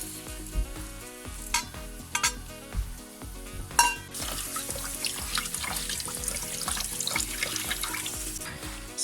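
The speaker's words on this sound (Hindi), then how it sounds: "इसको अच्छी तरह धो के मैंने इसको छन्नी में डाल दिया ताकि इसका पानी नीचे उतर जाए।" Poha being washed under running tap water in a strainer in a home kitchen: steady splashing flow with intermittent clatter and stirring knocks, close and fairly loud, no voices.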